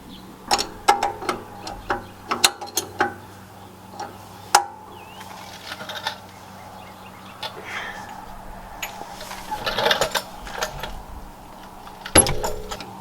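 A BC Racing coilover locking ring on a Nissan Z being loosened and spun, heard as scattered close metallic clicks, taps and ratcheting scrapes over a low steady hum, with no voices.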